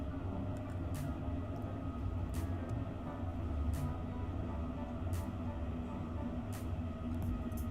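A British Rail Class 755 train running in a Roblox British railway game gives a steady low mechanical drone, with faint sharp clicks recurring at intervals over the continuous hum.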